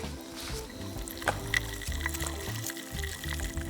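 Water poured into a pot of yellow split peas cooking for Greek fava, a continuous splashing, trickling pour close by with a few sharper splashes as the pot fills, no voices.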